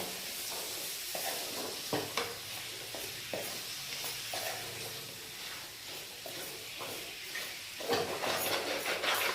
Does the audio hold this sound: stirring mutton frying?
yes